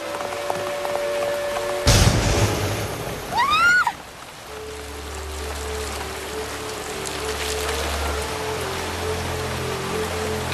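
Steady rain hiss in a cartoon forest scene, a soft continuous wash running the whole time, with brief whooshing and sliding effects near the start and low music tones underneath.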